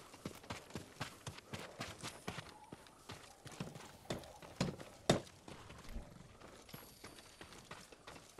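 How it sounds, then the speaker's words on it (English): Horse hooves clip-clop in a steady, brisk rhythm of repeated close thuds as a horse travels along in the Ghost of Tsushima video game, with a sharper knock near the middle and no talking. "Good horse, Kage"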